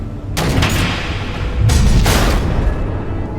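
Missiles exploding in the video game Batman: The Enemy Within, two heavy rumbling blasts about a second apart over a dense low roar, loud and close with no talking.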